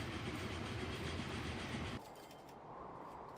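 Trains running in the video game Transport Fever 2, a loud rumbling roll with rhythmic wheel clatter that abruptly drops to a quieter, thinner hum partway through, with no talking.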